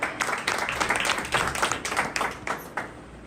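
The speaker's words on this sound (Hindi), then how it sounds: "क्या आप ताली दे सकते हैं?" An audience at a church convention in Chhindwara, Madhya Pradesh, claps in sustained applause, with a dense, steady wash of many hands beating for several seconds.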